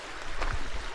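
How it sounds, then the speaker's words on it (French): Water running over small waterfalls on a Newfoundland walk, a steady close rushing wash with no talk. "Ah, écoute l'eau. Des petites cascades."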